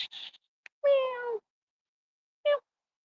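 A kitty meows twice up close: a longer, clear meow followed after a pause by a short one, with a faint squeak at the start and silence between.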